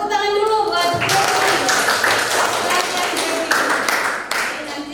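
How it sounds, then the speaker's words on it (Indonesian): Students clapping in a school classroom for a group about to present, a dense burst of hand claps that starts after a second and carries on steadily, close and fairly loud, with a voice faintly underneath. "Tepuk tangan dulu buat"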